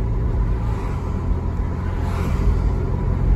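A car drives along a road beside a lake on the way to a scrap yard, its engine and tyres giving a loud, steady low rumble heard from inside, with no talk over it.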